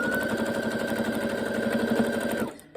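A sewing machine stitches a quarter-inch seam through the three layers of a quilted mug mat, a fast steady mechanical whirr with a rapid needle rhythm that runs for over two seconds and then stops abruptly.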